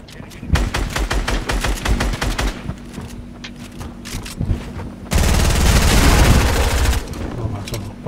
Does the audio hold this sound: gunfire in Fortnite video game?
yes